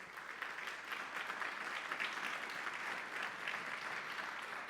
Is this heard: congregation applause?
yes